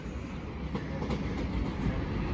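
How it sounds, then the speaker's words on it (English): Class 37 locomotive 37418 rolls into platform 2 at Dover Priory station with a steady, close rumble of wheels and engine, a few faint rail clicks rising above the continuous roar. "The train now approaching platform 2. 37418."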